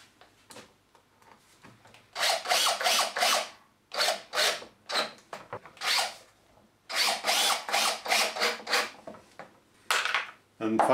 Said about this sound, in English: I'm pressing that down and I'm going to put 2 screws in.